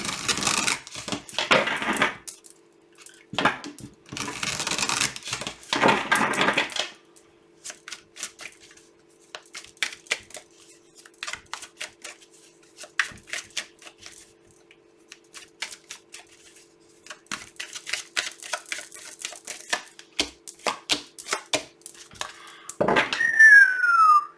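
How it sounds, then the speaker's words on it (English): A tarot card deck is shuffled repeatedly up close: crisp riffling bursts and quick flicks come in clusters, separated by quiet gaps. "I'm going to shuffle this deck"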